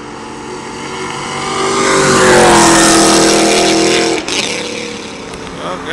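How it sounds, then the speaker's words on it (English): A 1999 Camaro SS with full bolt-ons races a highly modified Subaru WRX, engines swelling into a loud, sustained roar that peaks midway and then drops off sharply, with a voice talking faintly underneath. "We have 99 Camaro SS, full bolt-on car versus a Subaru WRX,"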